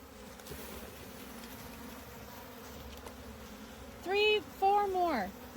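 Honey bees buzz around a hive built inside a dune buggy, a faint steady hum with a couple of louder, close buzzing passes near the end.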